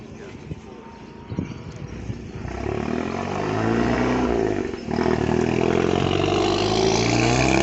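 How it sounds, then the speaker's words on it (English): A Honda Civic Type R FK8 departs a car meet at a country pub; its engine note swells from near quiet into a sustained, loud roar that builds over several seconds and holds as it pulls away. "And here goes the FK8 Civic Type R."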